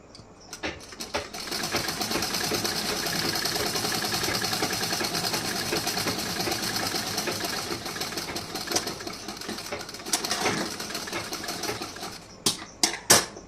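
A sewing machine stitches a blouse in one continuous run of steady mechanical whirring for about eleven seconds, stopping at the end with a few short, sharp clicks.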